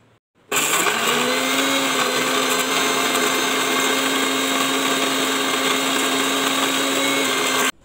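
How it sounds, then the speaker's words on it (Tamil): A blender grinds roasted peanuts into thick peanut butter, running loud and steady for about seven seconds after a brief quiet start, with a constant motor whine and no talking. "இதை நல்லா ஒரு நல்ல ஒரு திக்கான பேஸ்ட் வர வரைக்கும் நம்ம பிளெண்ட் பண்ண போகிறோம்"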